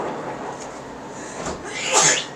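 A single sharp sneeze bursts out near the end, loud and close, after a stretch of quiet background murmur.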